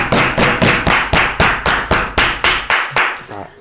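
About ten sharp, loud claps ring out one at a time in an even, quick rhythm during a sports podcast intro, close up and with no talk over them.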